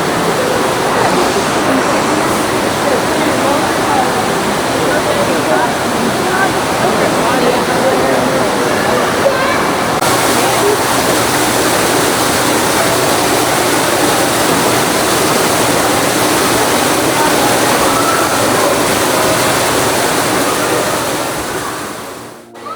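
An indoor waterfall at an aquarium in Chattanooga gives a loud, steady rush of falling water with no break. The roar keeps the same level for about twenty seconds, then fades out at the very end.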